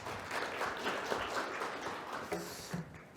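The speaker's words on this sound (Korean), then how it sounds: "다시 한번 박수 부탁드리겠습니다." Forum attendees at an architecture industry conference clap for a university professor about to present, a full, busy round of applause that thins out slightly toward the end.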